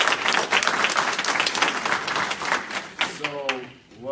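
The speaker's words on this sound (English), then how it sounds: "Give yourselves another round of applause." A crowd at a community meet-and-greet in Atlanta claps loudly and continuously, a dense burst of applause that fades out as a voice starts talking at the end.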